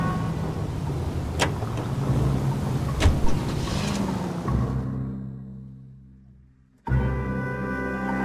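A car driven in the game L.A. Noire, a steady engine hum with a few passing bumps that fades almost to silence before the motor cuts back in loudly.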